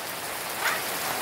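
Heavy rain pours steadily during a holiday gathering, a dense even hiss of falling water with a faint brief patter near the middle and no speech.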